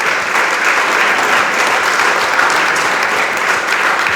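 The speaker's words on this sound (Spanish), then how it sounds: "Dele palmas al Señor." A church congregation applauds during a sermon, with loud, dense, steady clapping filling the room throughout.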